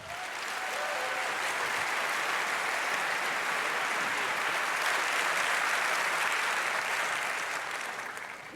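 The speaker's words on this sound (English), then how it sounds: "Give him a very warm applause" Warm, sustained applause from a large audience welcomes a speaker at the 38C3 hacker conference, a dense, even roll of clapping that holds steady for several seconds before beginning to taper off.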